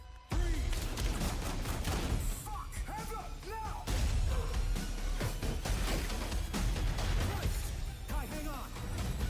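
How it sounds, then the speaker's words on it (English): Loud bursts of rapid gunfire and explosive cracks, dense and continuous, with a low rumbling bed underneath. "We've got gunshots."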